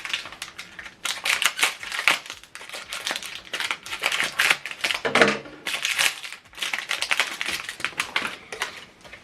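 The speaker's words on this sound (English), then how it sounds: "push the ink cartridges upwards and you hear a click sound and it's in" Rapid plastic clicks, taps and rattles come from ink cartridges being handled and pushed into an HP Deskjet 2710 printer, close and busy, with brief pauses between bursts and no talk.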